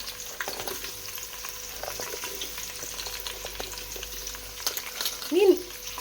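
Onions frying in homemade ghee for chicken biryani give a steady, soft sizzle with light stirring and occasional scraping, fairly quiet and close, with a brief faint voice near the end.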